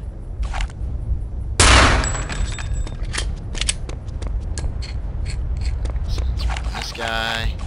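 Rapid bursts of gunfire from the first-person shooter Return to Castle Wolfenstein, a loud blast followed by scattered sharp shots and clicks over steady game ambience.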